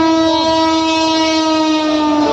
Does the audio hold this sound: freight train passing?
yes